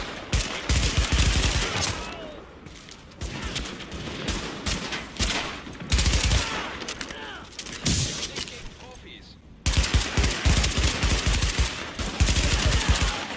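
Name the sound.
gunfire in the video game The Division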